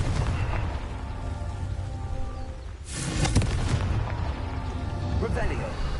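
A Confringo blasting spell from Hogwarts Legacy bursts with a loud, near boom about midway, its rumble rolling under continuous game noise and a talking voice throughout.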